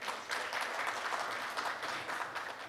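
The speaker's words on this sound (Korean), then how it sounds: "다시 한번 따뜻한 박수 부탁드립니다" Audience at a Seoul Forum 2025 opening ceremony clapping, a moderate, fairly distant wash of many hands applauding steadily for a few seconds.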